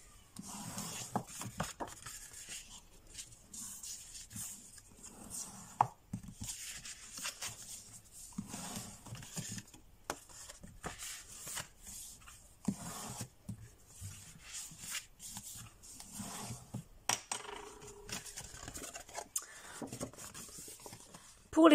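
Paper folds of an Easter box being creased by hand, soft close rubbing and scraping strokes with intermittent sharper taps and pauses, quiet throughout.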